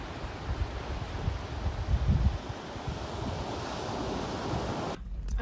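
Surf washes steadily onto a beach in a bay on Achill Island, a continuous roar of breaking waves with gusty wind buffeting the microphone, swelling briefly midway and cutting out near the end.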